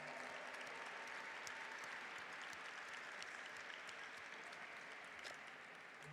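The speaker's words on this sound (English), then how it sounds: "Let's give another round of applause to Lions Dance Me and all the high school students." Steady, even applause from an audience at a Lunar New Year celebration at City Hall after a lion dance performance by high school students, a continuous wash of clapping at moderate distance with no one speaking.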